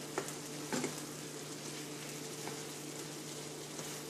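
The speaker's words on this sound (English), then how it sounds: "veal is starting to brown, we'll go ahead and throw the mushrooms in" Veal and mushrooms frying in a pan, a steady soft sizzle with a couple of faint clinks of stirring near the start, no voices.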